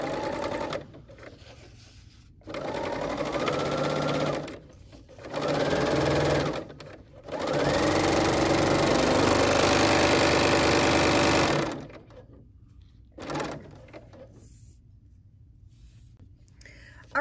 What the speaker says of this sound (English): I've set the serger back up to our wide 3-thread flatlock stitch